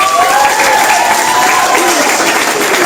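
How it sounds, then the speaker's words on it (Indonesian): High school students applaud together in a museum gallery, a dense, steady burst of clapping that fills the room throughout with faint voices mixed in. "Tepuk tangan dulu."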